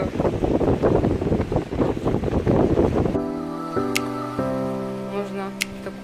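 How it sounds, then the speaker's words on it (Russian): Strong wind buffets the microphone on the descent to Milopotamos beach on Pelion, Greece, a loud gusty roar for about three seconds before easing into a quieter steady hum with faint tones. "Очень сильный ветер,"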